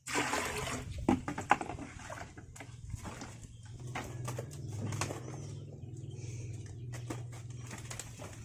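Birds call outdoors, with scattered faint chirps and coos over low background noise and occasional soft knocks.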